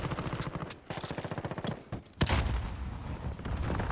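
A P90 submachine gun fires rapid bursts in Modern Warfare, a fast rattling stream of shots, then a pause before a heavier blast and a dense run of gunfire close up.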